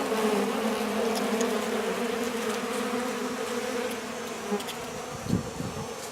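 A dense, steady buzzing hum of many bees feeding on leftover honeycomb in a bee yard, close by, constant throughout with a few louder passes flying near.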